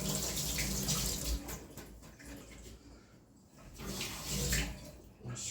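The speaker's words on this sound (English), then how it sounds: "Just rinse off the fingers." Tap water runs steadily into a sink as fingers are rinsed after dyeing yarn with powder dye, a continuous close splashing wash that swells and eases over several seconds.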